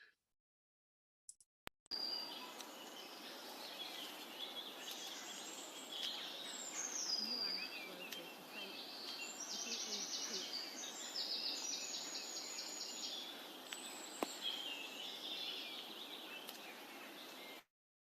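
Wild birds sing in woodland at the Falls of Clyde, a dense, continuous chorus of high chirps, trills and warbles at moderate distance over a soft constant hiss, with no talking.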